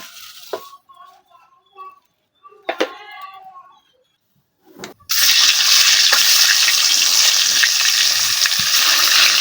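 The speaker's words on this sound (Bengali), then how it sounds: "ডিমটা সুন্দরভাবে তেলে দিয়ে ভাজা নিচ্ছি" An egg frying in oil in a pan, heard as a sudden loud, dense sizzle that starts midway and stays steady and close after a stretch of quieter speech and small clicks.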